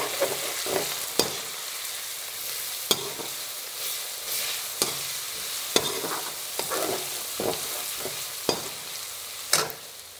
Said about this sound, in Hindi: इन अदरक और लहसुन को इस तेल में कुछ देर पकाइए जब तक इसमें से गंध आनी हट जाए।